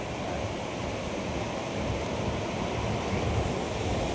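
Waves surging in and rising up an empty beach, a steady broadband wash of surf that rolls on without pause, fairly close and unbroken, with no voices over it.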